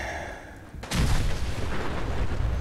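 Gunfire from a first-person shooter in virtual reality: a quiet stretch gives way to a sudden heavy boom, followed by sustained loud rumbling and crackling shots.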